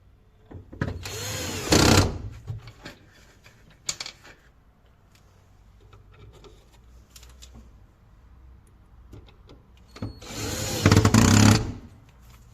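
A power drill drives screws into a wooden wardrobe in two loud, close whirring bursts of about two seconds each, and quieter handling knocks and clicks fill the gap between them.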